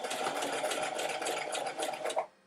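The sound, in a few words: sewing machine sewing a pajama sleeve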